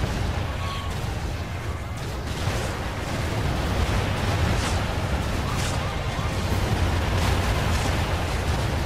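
Continuous rumbling blasts and booms from a Transformers game on the Wii, dense and loud, with repeated bursts layered over a constant low roar of weapon fire.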